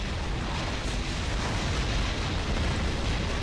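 Rocket explosions from the robot combat game War Robots form a dense, continuous blast and rumble that stays loud and steady throughout, with no talking over it.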